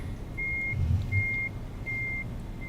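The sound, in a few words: truck reversing beeps in the video game Euro Truck Simulator 2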